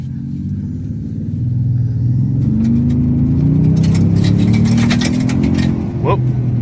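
A Toyota Sequoia TRD Pro's engine rumbles up under acceleration, the droning note climbing steadily and loud from inside the cabin, then easing off near the end.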